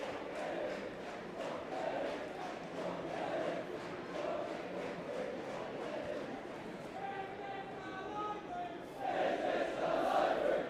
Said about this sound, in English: Plenty of atmosphere and a good crowd here as well today.